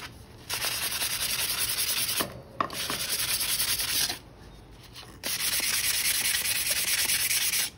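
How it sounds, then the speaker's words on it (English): Sandpaper rubbing on a flame-burned bamboo flute, steady rough scratching strokes in long bursts separated by short pauses, close and alone. "Just to use some sandpaper and sand it down a little bit."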